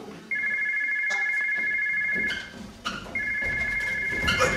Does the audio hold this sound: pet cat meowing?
no